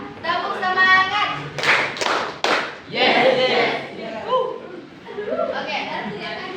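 A classroom of students claps the short 'tepuk semangat' cheer in sharp groups of claps, mixed with a teacher's voice and children talking and shouting nearby.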